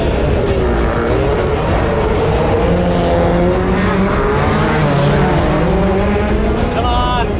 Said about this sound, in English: At the front, Speed is pushing to extend the gap